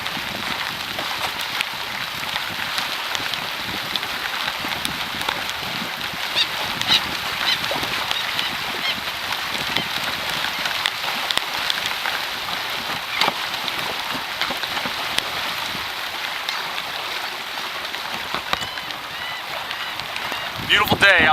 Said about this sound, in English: Rain's picking up a little more,